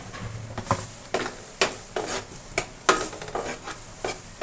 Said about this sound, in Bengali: মশলার কাঁচা গন্ধটা না যাওয়া পর্যন্ত কুক করে নেব।